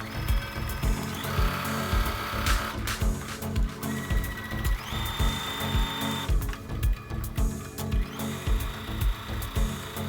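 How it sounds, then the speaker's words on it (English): A sewing machine stitches a 1 cm seam along the edge of fabric for wrap pants, its needle pounding in a fast, steady mechanical rhythm, loud and close, with brief changes in pitch as the work continues. "I'm keeping the needle in and I'm pivoting the fabric around, and I will continue sewing my 1 centimeter seam along the edge."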